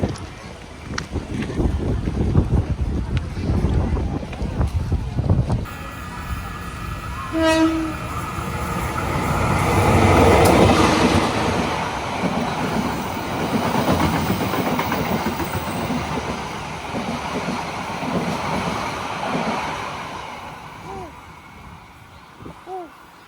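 A tank train passes close by, with a loud horn blast and rumbling, clattering wagons that swell and then fade over about twenty seconds, heard from a vehicle on a road trip.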